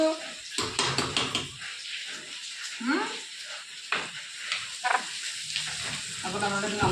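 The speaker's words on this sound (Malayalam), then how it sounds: "നന്നായിട്ടൊന്ന് വഴറ്റിയിട്ടുണ്ട്" Food sautéing in a pan for a chicken curry, bursts of sizzling with spatula scrapes and metal pan clinks, close, with a voice talking in between.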